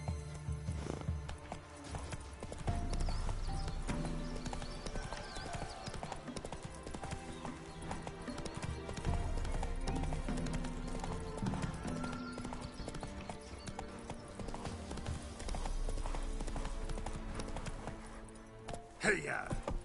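Roach the horse galloping in Witcher 3, with steady rapid hoofbeats drumming continuously over game music and ambient sound at moderate volume.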